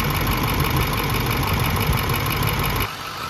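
A car engine idles with a steady, close mechanical rumble and a ticking clatter while being checked for leaking injectors, then drops off sharply near the end as it is shut down.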